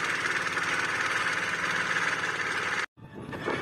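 A river trawler's engine chugs steadily and loudly at close range while crossing the Karnaphuli River, a rough throbbing drone that cuts out abruptly near the end.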